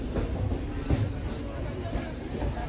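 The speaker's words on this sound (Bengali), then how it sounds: "কর্মস্থলে যাওয়ার বাহন ঢুকছে প্ল্যাটফর্মে" A commuter train on the Sealdah to Budge Budge line rolls into a single-platform station, giving a low, muffled rumble with a few clacks, heard from a distance beneath a murmur of people on the platform.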